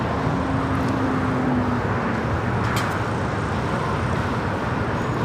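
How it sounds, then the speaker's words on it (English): A Hawaiian Airlines Boeing 787-9 Dreamliner, flight to Honolulu, takes off as a broad continuous engine roar, steady and fairly loud, with no voices. "This is Hawaiian Airlines Flight 3 taking off to Honolulu on the 787-9 Dreamliner."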